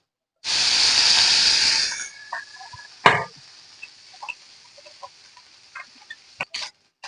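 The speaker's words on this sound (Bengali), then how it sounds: "বাকি মাছটিও আমি ভেজে নেব।" Small fish drop into hot oil with a loud, bright hissing sizzle that lasts about two seconds, then fade to quieter crackles and scattered utensil taps.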